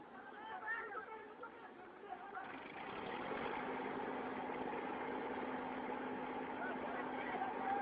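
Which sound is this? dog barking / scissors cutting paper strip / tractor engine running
tractor engine running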